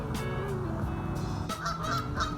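Several geese honk repeatedly in short, overlapping calls outdoors near freshwater, loud and fairly close, with a steady background hum underneath and no talking.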